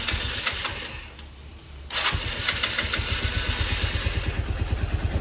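Lifan KP Mini motorcycle engine cranks briefly, then catches and settles into a steady, close-up rhythmic running putter at moderate loudness with no talk over it.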